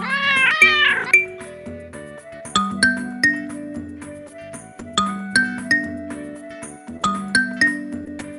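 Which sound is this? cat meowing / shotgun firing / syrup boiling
cat meowing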